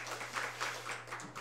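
A church congregation at Sunday worship applauds to encourage a member, steady soft clapping from a crowd at some distance throughout the brief moment, with no talk.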